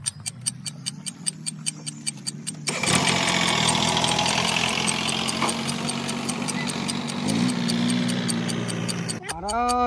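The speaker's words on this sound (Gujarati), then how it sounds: "આ ટ્રેક્ટર લઈને જવું પડ્યો." A tractor engine chugs in an even rhythm at first, then grows louder and runs steadily up close for several seconds.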